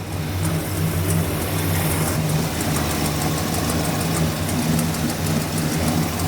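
An old Dodge Monaco engine idles steadily nearby, a low rumbling chug with a slight ticking rhythm, unchanging throughout.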